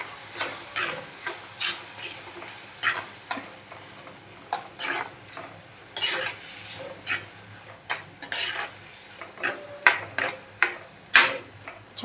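Salt being stirred into mashed eggplant bharit, with irregular scraping and tapping strokes of a spoon against the pan, close and distinct, a faint sizzle beneath and no talk.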